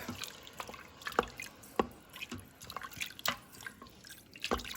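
Broth being poured into a pot of vegan West African peanut stew, heard as soft, irregular drips and splashes of liquid with a few sharper plops, fairly close and quiet, with no talking.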